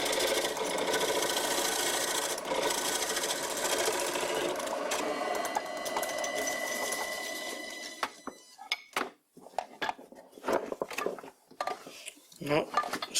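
Wood lathe turning a bowl with a homemade bowl gouge riding the bevel, a steady loud scraping, whirring cut for about eight seconds, then broken, intermittent cuts and clattering.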